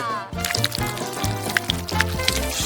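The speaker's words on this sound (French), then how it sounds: "Une bonne douche au chocolat." Hot Nesquik cocoa is poured over a person in a steady, gurgling liquid splash lasting a couple of seconds, continuous and close, with loud music underneath.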